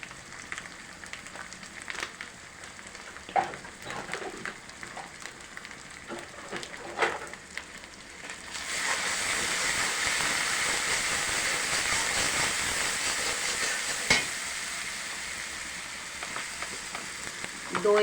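Yogurt and spices frying in a pan for a roast sizzle and hiss loudly. Quieter stirring clinks come first, then a sudden, steady surge of frying that carries on to the end.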